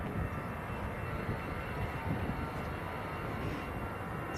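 An EasyJet airliner departing Manchester Airport for Berlin, a steady broadband jet roar held at an even level throughout, distant and continuous with no voices.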